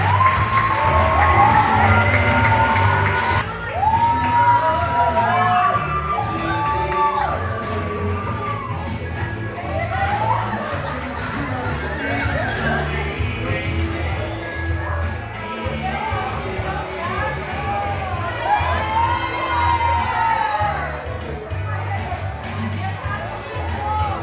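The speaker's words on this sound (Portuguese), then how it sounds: "Recebam com muito aplausos os pais da nossa debutante, Fábio, a Elza e o seu irmão caçula, o Berna" Crowd at a debutante fifteenth-birthday ceremony clapping, cheering and whooping as the guest of honour's parents are welcomed, loud and sustained throughout with shouts and voices rising above the applause.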